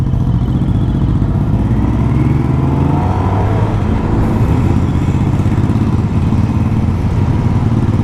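A Suzuki GSX-S1000S GT with a K5 GSX-R1000-derived engine drones loudly and steadily while riding, a continuous close engine roar with wind and road rumble throughout.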